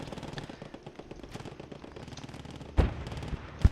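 Machine gun fire in a multiplayer WWII shooter battle around a castle, sputtering bursts of shots with a louder close burst near the end.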